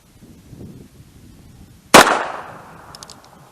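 A single sharp gunshot from a Heritage Barkeep .22 revolver at an outdoor range, loud and close, with a short ringing decay afterward.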